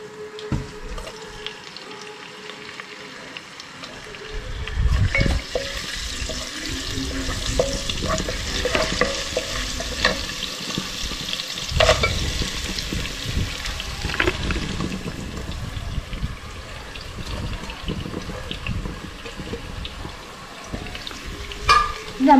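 Rice ingredients sauté in vegetable oil, quiet at first, then a steady sizzle with repeated scraping and stirring knocks of a utensil against the pan and some watery sloshing, with no talk.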